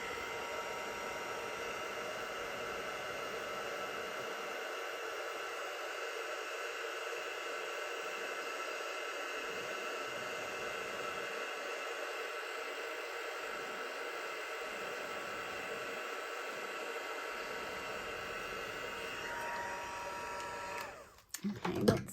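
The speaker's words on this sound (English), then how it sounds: "on the lower speed of the Stampin' Up heat tool" A Stampin' Up heat tool runs on its lower speed, a steady close whooshing blower hiss with a faint hum that holds evenly for about twenty seconds before cutting off with a few handling clicks.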